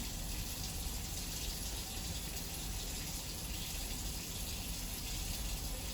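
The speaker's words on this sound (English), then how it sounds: "Now I'm going to use this paper towel to turn off the water" Tap water runs steadily from a faucet during a hand-washing routine, a constant broadband rush with no breaks, heard alone at moderate level throughout.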